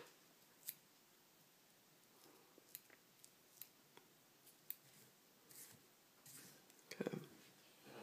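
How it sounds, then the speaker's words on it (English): Scissors trimming craft foam for a foam fly, a string of faint, sparse snips spread out and growing a little busier near the end, very quiet against low background hiss. "I'm going to trim off this front part."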